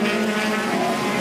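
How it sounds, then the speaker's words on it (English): A rallycross race car engine roars loud and close at high revs, a dense, steady mechanical blare across the whole short burst with no talk. "Listen to this sound. What's coming out of this engine?"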